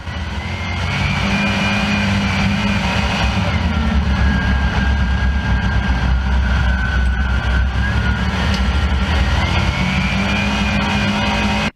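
A dirt track speedway race car holds a steady, loud engine drone off the throttle, a sustained low rumble with a faint whining tone above it, continuing unbroken for the full stretch before cutting off abruptly.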